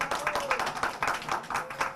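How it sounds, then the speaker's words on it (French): Applause and clapping for Richard Charlus at a local gathering, a steady, moderately loud patter of many hands lasting the whole moment. "on applaudit bien fort M. Charlus pour nous aider sous les VHU"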